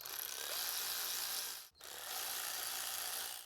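Upper intake manifold bolts on a 2004-2007 Ford Freestar are snugged down with a hand tool, giving two close, continuous bursts of rapid ratcheting split by a brief pause; no voices.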